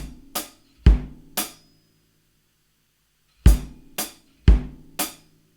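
Sparse drum pattern in seven from a lesson, with a hi-hat note dropped beside the second bass drum: two short bursts of hits with low kick thumps and bright cymbal attacks, a gap of silence between, played close and alone.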